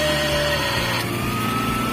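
A Philips blender with a glass jar, being repaired because it would not spin, runs its motor at high speed, giving a steady, loud whirring hum that carries unbroken through the whole stretch with no talking.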